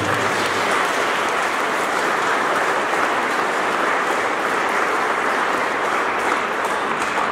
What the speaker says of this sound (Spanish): Le damos fuertes aplausos.